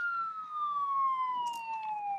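An ambulance siren in the police video game Enforcer, a single smooth wail that slowly slides down in pitch, fairly clear and alone.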